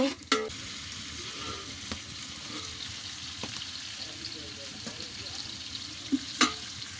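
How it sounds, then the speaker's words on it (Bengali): Onions with salt frying in a pot, a steady sizzle with scattered stirring scrapes and a couple of sharper clanks near the start and end, with some faint voice in the background. "পেঁয়াজ দিয়ে দিছি, আর পেঁয়াজের মধ্যে লবণ দিয়ে দিতেছি"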